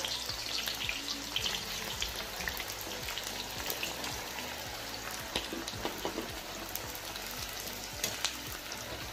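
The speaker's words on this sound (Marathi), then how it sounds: "तर आपल्याला आता याला डीप फ्राय करून घ्यायचं आहे, छान असं खरपूस तळून घ्यायचं।" Sliced onions deep frying in oil give a steady, moderately quiet sizzle with dense bubbling crackle and scattered sharper pops, continuous and close, with no talk.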